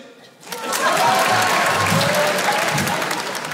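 Audience applause at a French stand-up comedy show, a dense burst of clapping that starts abruptly after a brief quiet moment and holds steady and loud, with some voices mixed into the crowd.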